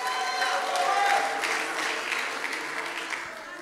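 A church congregation applauds with a steady wash of clapping throughout. Faint voices and tones sit beneath the applause.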